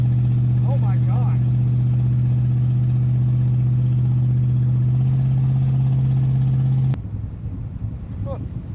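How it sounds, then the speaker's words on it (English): A Buick Wildcat that sat unused for 21 years is driven while starting out in second gear. Its engine holds a loud, steady low drone that drops off abruptly near the end, and people talk over it. "It may be starting out in second gear because it can't go down into low."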